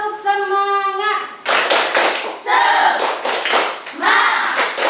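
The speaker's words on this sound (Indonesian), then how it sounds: "Tepuk semangat." A primary school class in Indonesia does a rhythmic clapping ice-breaker led by the teacher, with bursts of group claps and chanting voices after a sung opening line.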